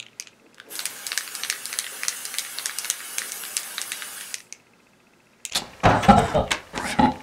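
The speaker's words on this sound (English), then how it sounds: "it's super easy to just spray it on" Several quick hissing bursts of setting spray mist repeat close by for a few seconds, then stop. A louder rustle or clatter follows after a short pause.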